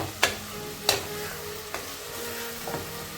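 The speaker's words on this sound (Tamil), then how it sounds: "தக்காளி நல்லா வதங்கிடுச்சு. நல்லா வதங்கிடுச்சு பார்த்தீங்கன்னா தெரியும்." Tomatoes sauté in a pan for goat head gravy: a soft, steady sizzle with four sharp scraping strokes of a spoon or spatula spaced across the moment, close by and without speech.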